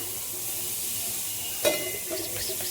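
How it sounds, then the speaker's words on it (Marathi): A quick splash of water hits a hot griddle and hisses sharply, then fades into soft sizzling over a faint background hiss. "तर आता थोडंसं पाणी टाकून घेऊ. तवा पण मस्त गरम झाला."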